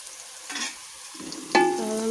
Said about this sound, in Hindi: और हम अच्छे से इसे मिक्स करेंगे इसमें।